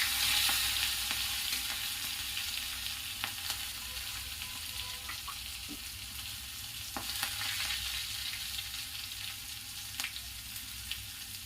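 Steady sizzling and crackling of garlic frying in a pan, close and continuous, with occasional light clicks of stirring and no voices.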